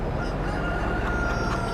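Chickens at a storm-damaged farm cluck steadily beneath a constant broadband wind-like wash, with the fowl calls faint and blended into the dense background noise throughout.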